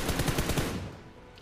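Rapid automatic gunfire in a Free Fire team deathmatch, a fast rhythmic burst of shots lasting under a second, then a fading tail into quiet.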